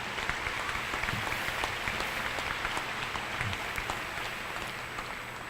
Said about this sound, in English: Let's give a round of applause to Governor Haslam.